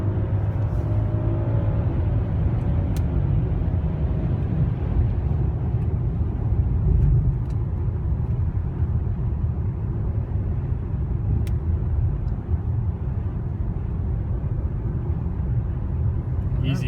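A 2016 BMW 740i accelerates on the road, heard from inside as a steady low engine and road rumble that holds throughout, with people talking over it.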